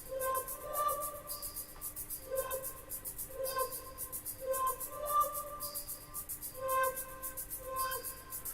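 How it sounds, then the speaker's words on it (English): A repetitive Roland System-1m synthesizer pattern loops steadily, bright plucky notes with a high shimmering layer, moderately quiet and without any voices. "I've got the Roland System 1M over there, which I've programmed a patch into"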